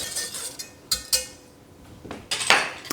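A spoon stirs custard in a pan over low heat, giving intermittent metallic clinks and scrapes against the pan, with several sharper taps spread across a quiet background.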